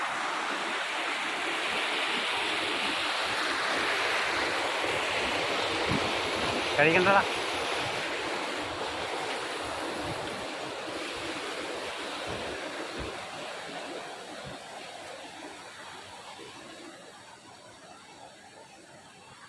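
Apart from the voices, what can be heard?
waterfall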